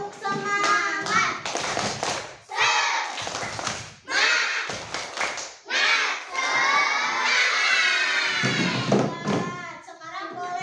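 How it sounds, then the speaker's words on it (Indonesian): Schoolchildren perform the tepuk semangat clapping chant before going home from class, a burst of loud shouting voices and rhythmic claps in repeated bursts, close and energetic, with brief gaps between phrases. "Sebelum pulang tepuk semangat dulu."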